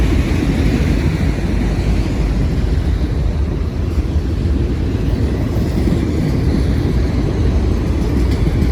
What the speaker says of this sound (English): Got two locomotives shoving the rear.